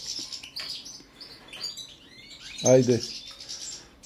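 Balkan goldfinches sing in an aviary, giving bright high twittering phrases and trills. A short spoken word breaks in briefly partway through.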